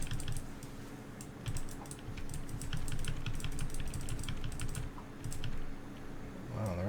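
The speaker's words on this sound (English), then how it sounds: "Yep, you hear me clicking like mad." Rapid clicking on a computer keyboard and mouse during a video game, a dense, steady clatter of keystrokes that runs close and continuous for several seconds with no talking.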